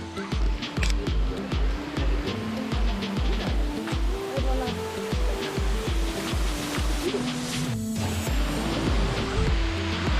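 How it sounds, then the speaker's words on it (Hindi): A waterfall inside a cave at Tukad Cepung, Bali, gives a steady, close rushing roar of falling water, overlaid with irregular low thuds and knocks nearby. "सुनाई दे रहा है कि वाटरफॉल पास में है हमारे"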